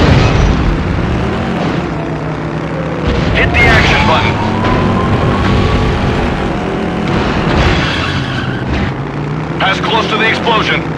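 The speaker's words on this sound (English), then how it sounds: "explosion." A loud explosion in the PS2 game Stuntman: Ignition, a deep rumbling boom that rolls on with booming bursts against heavy engine and crash noise, no voices.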